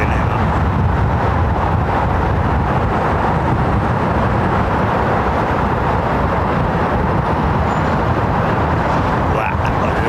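A steady, loud broadband roar of an airliner's engines during takeoff at London Heathrow Airport, continuous and unbroken across the whole stretch.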